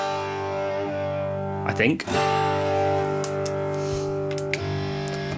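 A guitar played through the drive effect of a Line 6 Pod Express rings out as a steady, sustained distorted chord, with a brief disturbance partway through and a few soft clicks, under brief talk.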